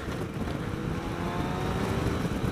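A 2016 BMW K 1600 GT Sport motorcycle's engine drones steadily while riding, a smooth, close rumble with rising wind noise and no speech.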